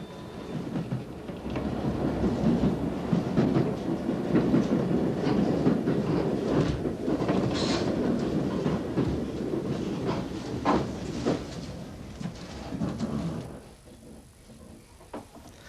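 A London Underground train on the Chesham shuttle rumbles along steadily with rattling and clacking, loud for most of the stretch, then fading quieter toward the end.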